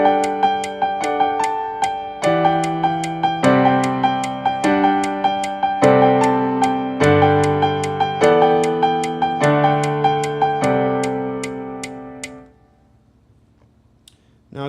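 Solo piano plays the intro in syncopated 6/8, clear repeated chords with off-beat accents, close and moderately loud, ending with a fading final chord.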